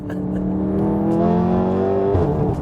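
A 600 bhp methanol-injected Volkswagen Golf R drives from inside the cabin, a steady engine drone that climbs in pitch, then drops sharply at a gear change near the end.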